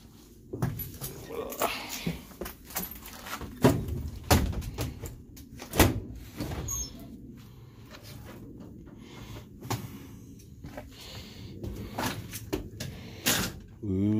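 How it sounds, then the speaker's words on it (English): An abandoned school bus door pushed open in an outdoor bus graveyard, giving a few sharp knocks and creaking thumps close by, with talk around them. "And the door is pushed open."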